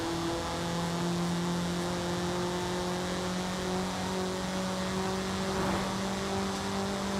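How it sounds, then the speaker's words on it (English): In Forza Horizon 5, a high-revving car engine pulls hard through the revs, a sustained close engine drone rising and holding loud for several seconds, uninterrupted and with no speech. "It's a nice high revving motor."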